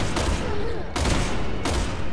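Gunfire in Resident Evil 6 comes as a loud, close burst of rapid shots, with three sharp cracks standing out over a dense, continuous rattle.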